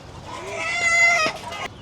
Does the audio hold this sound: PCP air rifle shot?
no